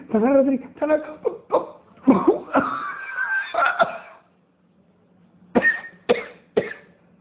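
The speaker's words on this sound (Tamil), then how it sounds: "அதுக்குள்ள இருமுற?" A woman coughs in a few sharp bursts amid excited talk from a group, then a short pause before more quick coughs, close and loud.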